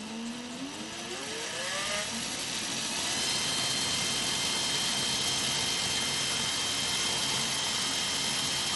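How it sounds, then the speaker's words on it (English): A power drill with a clamp fitted, spinning to twist coil wire: a rising whine settles into a loud, steady mechanical drone, with no talking. "Put my clamp on my drill."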